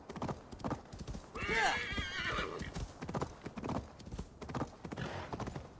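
A horse in a Viking-themed video game galloping with quick, loud clip-clopping hooves, breaking into a high, wavering neigh partway through, close and prominent, with a voice faintly underneath.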